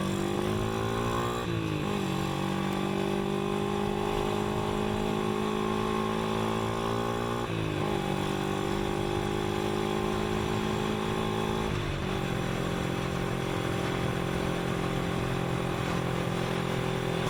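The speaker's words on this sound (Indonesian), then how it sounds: "Kira-kira seperti inilah putaran mesin pada gigi 5 hanya untuk berjalan 60 km per jam" Manual motorcycle engine held in fifth gear at a steady 60 km/h, running on a short sprocket setup (14–16T front, 42T rear, thin 415 chain): a loud, continuous buzzing drone with a few brief rev dips, no talk.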